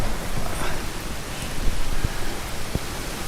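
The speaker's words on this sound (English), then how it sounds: "the rain has come." Rain drums steadily on the roof of an Adria caravan at a campsite, a dense hiss of drops with a few sharper close taps standing out.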